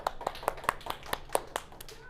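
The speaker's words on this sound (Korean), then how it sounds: "박수!" A single person clapping in a classroom, about ten sharp claps in an uneven, slightly quickening rhythm, close and distinct against a quiet room.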